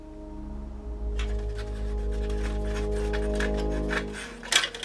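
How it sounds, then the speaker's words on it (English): A knife scrapes excess flashing from the hull of a Revell 1:72 Schnellboot S-100 plastic model kit, giving a steady rasping rub over a low hum, ending in a few sharper scrapes. "just using a knife just to take off the excess flashing"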